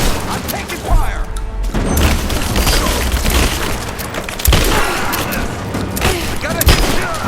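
Gunfire erupts in Rise of the Tomb Raider: dense, loud volleys of shots and heavy booms arrive in overlapping bursts with no pause.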